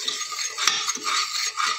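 Rice being stir-fried in ghee in a pan, with close, continuous scraping and clinking of a utensil against the metal and a few sharper knocks, heard alone with no talk.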